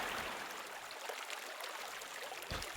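Fast-flowing river water rushes in a steady, broad hiss, close and continuous, with a brief gurgling swell near the end.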